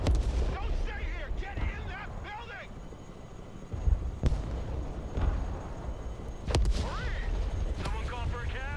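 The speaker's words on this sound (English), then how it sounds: "Oh man, direct artillery hit there." Artillery fire and explosions in the war game Broken Arrow, with sharp loud blasts near 4.3 and 6.6 seconds over a dense rumbling battle bed, while someone talks throughout.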